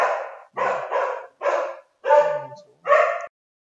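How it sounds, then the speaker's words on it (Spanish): A dog barks five times in short bursts close to the microphone, loud and clear, with brief gaps of silence between the barks. "El perro se ha vuelto loco."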